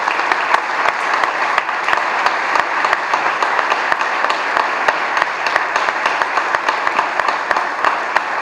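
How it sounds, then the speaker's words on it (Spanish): Audience at a university faculty tribute to a professor emeritus breaks into loud, steady applause, dense clapping with sharp individual claps standing out, sustained evenly for about eight seconds without speech. "merece nuestro aplauso"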